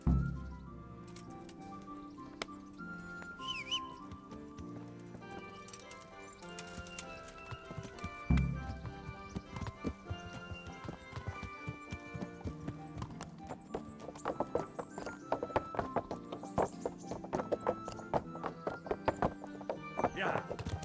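Horse hooves clip-clop steadily in the Kingdom Come Deliverance video game, a continuous rhythmic gait with occasional snorts and thunks under voices and background game sound.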